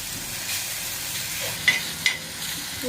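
Egg masala fries in a pan with a steady broad sizzle close by, broken by two sharp clinks of a utensil against the pan.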